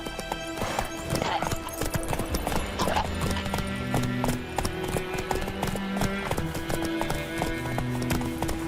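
A horse gallops in The Witcher 3 with rapid, steady hoofbeats and a whinny, set against a musical score, close and continuous throughout.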